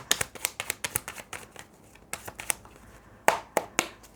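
Tarot cards shuffled by hand in quick riffling bursts and snapping taps, close and crisp, with uneven rhythm and short pauses, no speech over it.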